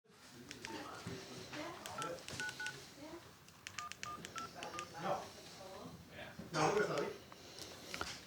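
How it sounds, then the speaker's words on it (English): An emergency phone gives a quick run of dialing tones, several short beeps in two bursts, heard faintly with people talking quietly and some rustling nearby. "This is our emergency phone, just for when we get stuck in the river. It works."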